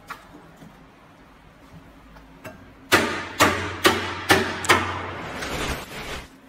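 Heavy knife chops cutting fish at the Mirbat fish market in Oman, five sharp close blows in quick succession after a quieter stretch of faint ticks and background noise.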